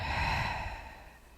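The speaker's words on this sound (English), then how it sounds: "breathing all the way back out." A slow, deep exhale during a quarantine yoga class, a soft airy breath out that fades steadily over about a second and a half, close and quiet, with no talking.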